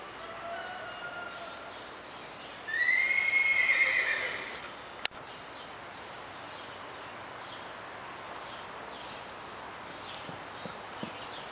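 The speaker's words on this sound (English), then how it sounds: "I like your trot, Envy. Look like you're floating" A horse gives a single loud, drawn-out whinny with a falling pitch, heard outdoors against steady background noise, followed by a sharp knock and faint hoof sounds, with no talking.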